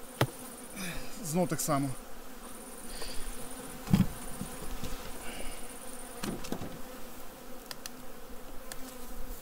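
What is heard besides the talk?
bees buzzing around a beehive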